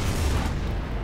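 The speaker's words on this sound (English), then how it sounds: "Benham suffers magazine explosion already." A ship's magazine detonates in the naval game War on the Sea, a deep, heavy rumbling boom that fills the low end and slowly fades, with no talking.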